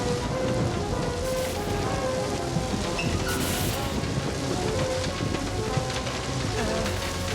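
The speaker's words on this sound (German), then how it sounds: "Der Eissturm ist losgegangen." An ice storm in a cartoon, with steady heavy rain and rolling thunder that fills the whole stretch loudly and without a break.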